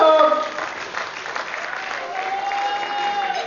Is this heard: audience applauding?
yes